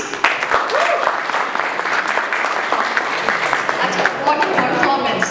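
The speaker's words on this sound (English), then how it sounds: "If you are, clap your hands." Audience clapping at a children's performance, a dense, lively burst of many hands that continues steadily, with voices audible over and among the claps.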